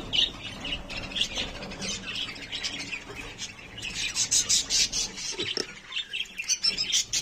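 Shrill, scratchy squawks and chirps from budgie chicks inside a breeding box, a steady chatter that stays close and fairly loud throughout, with sharper bursts near the end.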